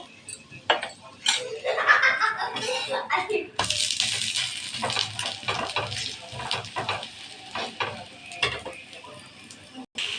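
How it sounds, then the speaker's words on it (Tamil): A kara dosa being turned over on a hot pan with oil poured around it: light scraping and utensil clinks, then a steady bright sizzle that carries on close by, with a voice speaking faintly at times. "தோசை ஒரு சைடு வெந்துருச்சு. திருப்பி போட்டுக்கலாம். எண்ணெய் ஊற்றிக்கோங்க."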